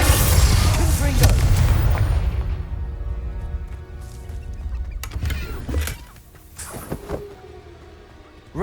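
A Confringo spell explosion in a video game, a heavy booming blast at the start that rumbles and fades, followed by scattered smaller impacts and cracks.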